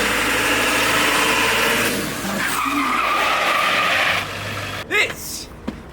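A two-wheel-drive 1999 Ford F-250 with a 7.3 Power Stroke diesel and 290,000 miles runs with a loud, steady, close drone for about four seconds, then cuts off, followed by a couple of brief knocks.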